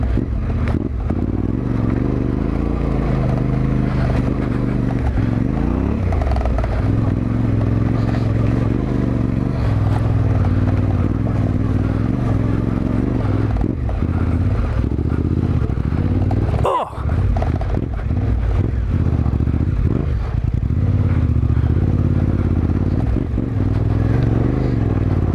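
A 2021 Yamaha Tenere 700 motorcycle rides through deep gravel or sand. The engine drones steadily and close, with crunching clatter under the tyres and a brief sharp dropout near the end.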